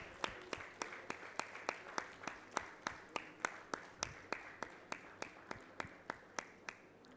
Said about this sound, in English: please applaud as we felicitate our esteemed guests